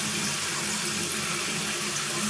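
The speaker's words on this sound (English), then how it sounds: "Turn the tap on and let it run." A tap is turned on and left running in a building, giving a steady, loud, continuous rush of water that stays even the whole time with no other sounds.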